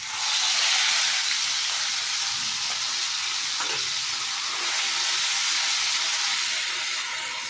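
Ground paste of ginger, tomato, peanut and green chili sizzles loudly in hot oil, a dense steady hiss with brief spattering crackles and a faint stir midway, no voices.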